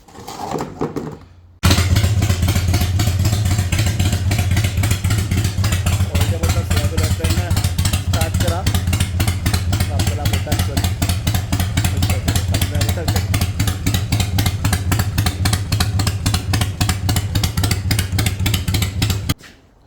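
A Harley-Davidson motorcycle engine idles to warm the oil during an oil change, a loud, steady low rumble with a fast, even pulse that starts abruptly and runs throughout.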